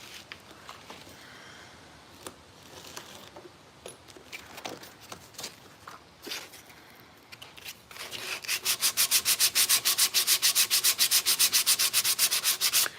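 Sandpaper works over a wooden rocking horse part. Scattered, uneven rubbing strokes come first, then a fast, loud, rhythmic run of back-and-forth scrubbing near the end.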